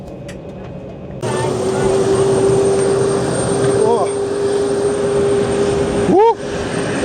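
A parked Air France HOP Embraer 190's jet engines whine and roar steadily in cold, strong wind that buffets the microphone; a voice briefly exclaims near the end.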